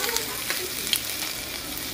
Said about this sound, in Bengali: তেল গরম হয়ে গেছে, এখন দিয়ে দিব এই যে আদা কুচি